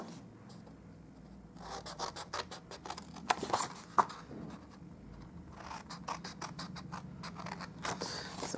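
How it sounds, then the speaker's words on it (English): Scissors snip through cardstock along score lines while a gift box is made, a close series of quiet crisp cuts and rubbing paper sounds recurring in bursts, with no talking. "I'll just cut up all of the score lines on each side to start off with"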